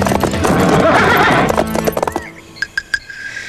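Horses gallop in a loud rush of clip-clopping hooves during a cartoon chase in Sherwood Forest, then the hoofbeats fade and a few sharp whinnies ring out alone.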